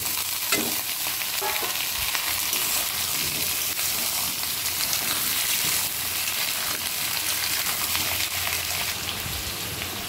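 Potatoes and pumpkin with onion frying in hot oil in a Bengali home kitchen, a loud, steady, rain-like sizzle throughout with occasional stirring scrapes and clinks close by.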